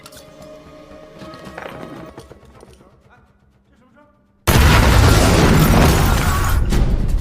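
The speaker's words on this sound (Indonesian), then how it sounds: "Mary dan Meg membuat keributan dengan melempar bom" Bomb blast in an action film scene, a sudden loud, dense roaring explosion that cuts in after quieter, sparse ambience and sustains as a heavy rumbling wash to the end.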